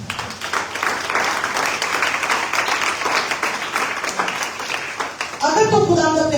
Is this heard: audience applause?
yes